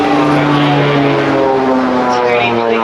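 An OV-10 Bronco twin-propeller aircraft in dark camouflage flies high overhead above the beach at the Clacton Airshow. Its loud, steady engine drone holds throughout with a sustained tonal hum.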